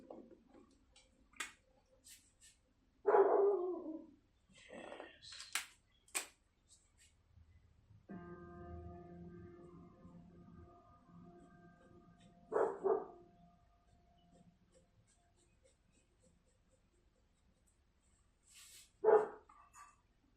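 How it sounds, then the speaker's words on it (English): A dog barks in bursts outdoors at moderate distance, three or four separate barks spread across a quiet stretch with faint ticking and a low hum between them. "The barking begins."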